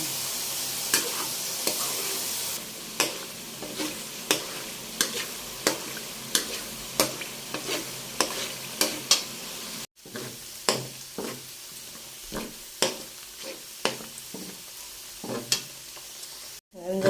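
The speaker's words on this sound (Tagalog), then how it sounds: "Kumukulo na po siya. Ayan, at malapit na po siya maglatik." Coconut milk boiling down into latik for sinukmani, with a steady sizzling bubble broken by repeated sharp scraping stirs about once a second, close and moderately loud, with no talk.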